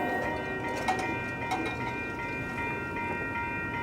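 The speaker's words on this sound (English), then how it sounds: "there's a train coming" A train rumbles past nearby, a steady low roar with rattling wagon clatter and faint whistle-like tones throughout, with no talking.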